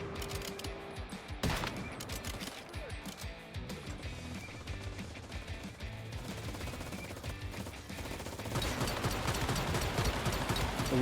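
Gunfire in the Once Human video game, a sniper-style shot among dense, continuous bursts of shooting and combat effects that run steadily throughout and grow louder near the end, with no speech.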